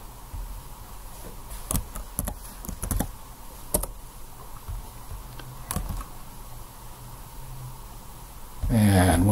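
A computer keyboard is typed on in scattered bursts of sharp clicks, some isolated and some clustered, near and clear. Quieter passages fall between the bursts, and a heavier thud lands at the end.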